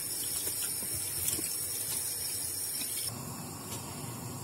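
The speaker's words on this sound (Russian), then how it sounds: "Заливаем персики водой." Water pours steadily from a tap into a pot of halved peaches, a continuous close splashing rush that softens slightly near the end.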